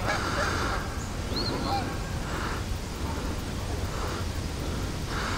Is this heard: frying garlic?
no